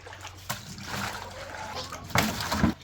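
Water sloshing and splashing as buckets are refilled for a backyard duck flock outdoors, with a couple of louder splashes late on over soft background noise.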